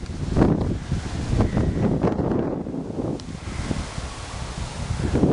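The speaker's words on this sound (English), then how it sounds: "it's quite windy" Strong wind gusting and buffeting outdoors at night, a steady broadband roar with rising and falling surges, close and fairly loud, with no talk.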